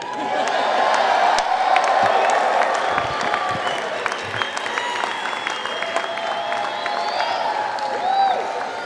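Graduates at an MBA spring convocation cheer, whoop and applaud loudly, a dense continuous roar of clapping and shouts that holds steady throughout.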